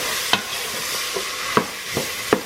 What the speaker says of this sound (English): and cook with the sausage until translucent. Stir well.